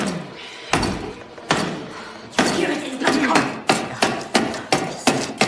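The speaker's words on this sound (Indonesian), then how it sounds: "memutuskan untuk menjebol pasekon kayunya menggunakan obeng, di mana suara yang ditimbulkan ternyata cukup berisik" A wooden door frame being broken with a screwdriver by a prison inmate, heavy repeated thuds and knocks on wood, irregular at first then quicker and rhythmic, loud and close.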